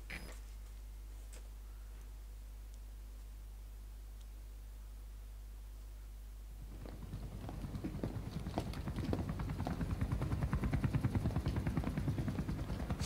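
A helicopter arrives in the video game Metal Gear Solid V: The Phantom Pain, its rotor chop rising out of a steady low hum and growing louder and denser over several seconds, with no voices.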